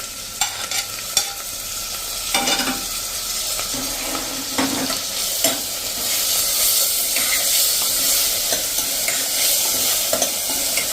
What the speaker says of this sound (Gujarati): હવે એમાં આપણે લીલા લીમડાના પત્તા લીધા છે, મીઠા લીમડાના, એને નાખી દેશું અને 2 ટમેટા સમાર્યા છે મીડિયમ સાઇઝના, એને નાખી દઈશું